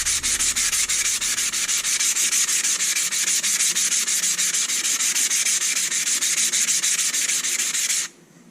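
Steady, rhythmic gritty scraping of a Work Sharp waterstone being rubbed back and forth on a Harbor Freight diamond plate to flatten it, close and loud, stopping abruptly near the end.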